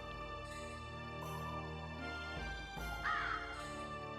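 Crows cawing in the PlayStation 1 port of Diablo, several scattered caws over a steady droning game music bed, moderately loud and close, with no talk.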